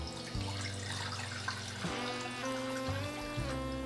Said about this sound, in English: Stove on high, and we're gonna start putting the water first.